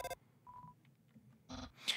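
A phone in the Undertale video game dials Papyrus: a few short, clean electronic tones, a brief beep and then a burst of further tones, close and fairly quiet between the gaps.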